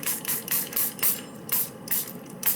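Short bursts of liquid, likely coffee dye, spraying onto paper over a stencil, about eight quick hissing sprays in an uneven rhythm, close and clear with no talk.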